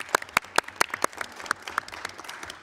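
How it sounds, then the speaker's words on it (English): Conference audience applauding the panelists at the end of a forum session, a small group's scattered, uneven claps that thin out over a couple of seconds. "I think they deserve an applause."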